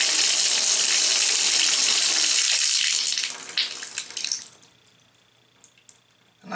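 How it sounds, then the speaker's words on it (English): Tap water runs into a bathtub sealed by a newly fitted drain plug. The loud, steady stream thins out partway through into scattered drips and then near silence. "And that's water not going down the drain."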